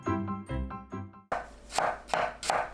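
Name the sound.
knife slicing onion into thin strips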